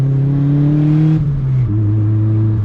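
A turbocharged D16Y7 Honda Civic engine, running without a tune, revs up with a steady droning tone that climbs, dips sharply, then settles into a lower hum, close and loud from inside the car.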